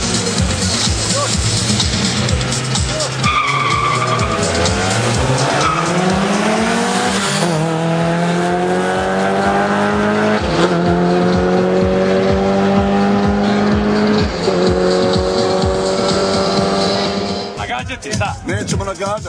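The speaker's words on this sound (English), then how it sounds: "Suzuki Alto." A 170 HP Suzuki Alto race car revs hard through climbing gear pulls, its engine note rising and falling, then breaks into loud tire squeal and skidding near the end, with voices talking over it.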